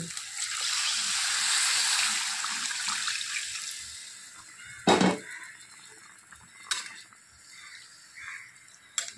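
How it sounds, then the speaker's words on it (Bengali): Broth poured into a pan of banana flower and fish head curry, a steady close splashing pour that fades, followed by a few sharp clatters and soft bubbling, with no talking. "এখন আমি দিয়ে দিব ঝোল"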